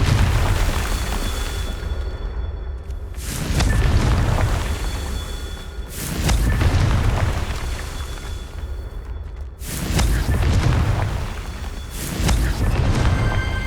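In the Hogwarts Legacy video game, the Confringo explosion spell sets off a series of loud, dense booming blasts that come in roughly regular waves, each followed by a rumbling decay.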